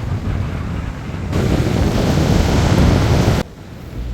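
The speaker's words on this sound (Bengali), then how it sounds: "প্রচণ্ড বাতাস এবং বৃষ্টি আমরা আসতে না আসতে বৃষ্টি শুরু হয়ে" Strong wind and rain buffeting the microphone at Fort Lauderdale Beach, Florida, a loud steady broadband roar with surf-like rushing that swells louder in the middle before easing, no voices.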